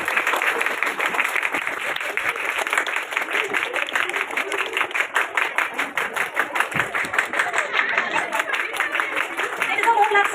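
An audience at a felicitation ceremony for phonics and spelling bee students claps steadily for several seconds, a dense patter of many hands close by, with some chatter mixed in.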